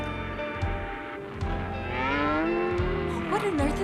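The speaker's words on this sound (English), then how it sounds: "Why, those are cows, of course." Cows moo in a series of loud, drawn-out lowing calls, several overlapping bellows close by, with no talk over them.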